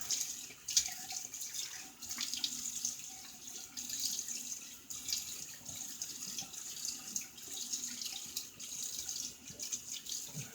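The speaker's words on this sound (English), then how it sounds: "Let me get a quick rinse here." Tap water runs steadily into a sink for a quick rinse during a shave, a continuous hissing flow with small splashes that rise and fall in level, close by and without talk.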